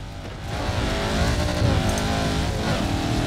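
A racing car in Forza Horizon 4 accelerates hard, its engine roaring loudly and steadily throughout, close and alone.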